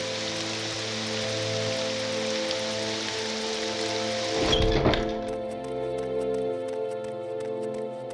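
Steady rainstorm from the video game Morrowind, a dense, even hiss of falling rain that holds throughout, with a brief louder swell midway before settling back to a constant patter.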